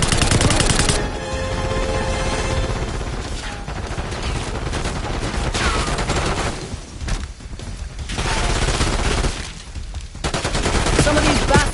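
Heavy automatic gunfire fills a Black Ops firefight, with sustained machine-gun bursts that briefly thin out before resuming loudly, and voices occasionally heard beneath the shooting.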